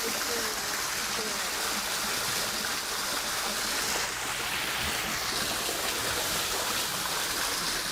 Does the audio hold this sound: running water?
yes